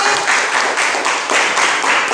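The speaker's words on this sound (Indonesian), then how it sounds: "Tepuk tangan dulu sama kawannya." Schoolchildren in a classroom clapping their hands for a classmate, a dense patter of many small claps in a quick, loosely pulsing rhythm, close and fairly loud, with no talking.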